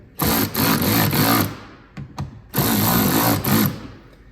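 A power tool whirs in two sustained bursts with brief pauses, close and loud, as screws are driven in to tighten a splash guard on a fourth-generation Toyota Highlander, with a couple of short clicks between runs.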